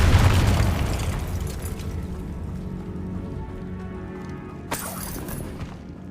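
A Confringo fire spell explodes in the Hogwarts Legacy video game, a loud booming blast at the start that rumbles and fades over several seconds, followed by a brief faint crackle.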